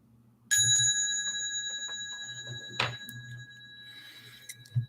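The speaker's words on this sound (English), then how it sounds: "Just gonna take a little break, give a little bell." A small bell rings with a sharp strike and a long sustained shimmering tone, struck again about two seconds later and left to fade, alone in a quiet room.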